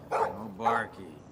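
Dog in Life Is Strange outside the Two Whales diner giving two or three sharp, close barks in quick succession, each followed by a softer tail.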